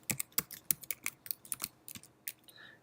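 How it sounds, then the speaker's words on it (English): A password is typed on a computer keyboard during a git push: a quick, irregular run of crisp key clicks, close and fairly quiet, with no talking. "I'll take the opportunity to type that in."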